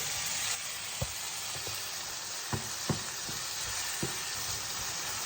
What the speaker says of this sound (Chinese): 我在翻炒西红柿